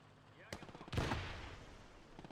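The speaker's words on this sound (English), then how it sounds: "My artillery doesn't make huge explosions, but it does. Will just keep pounding away." Artillery fires in the WWII strategy game Gates of Hell: a sharp report, then a heavier booming blast about half a second later, trailing into a rolling rumble beneath steady battle noise.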